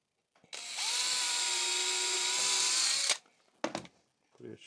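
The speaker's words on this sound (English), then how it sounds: "Drill a hole." Power drill boring a hole in scrap timber while a bench hook is built, a close, loud, steady whine of about two and a half seconds that stops abruptly, followed by a few faint knocks and handling sounds.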